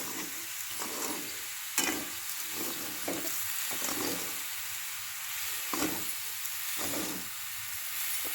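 A coconut and sugar mixture for coconut barfi is stirred in a pan, giving a steady soft sizzle and hiss with rhythmic scraping strokes of a spoon, moderately quiet and with no voices.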